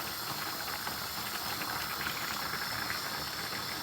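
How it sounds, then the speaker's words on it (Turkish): Steady bubbling and hissing of pumpkin at a rolling boil in a pot, constant and close, with no voices. "Suyunu çekene kadar kaynatıyoruz"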